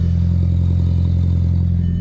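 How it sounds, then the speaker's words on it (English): A modified MK4 GTI 20th Anniversary Edition with a new exhaust setup idles with a steady, low, droning burble, close and continuous with no talking over it. "Y'all hear the exhaust, right?"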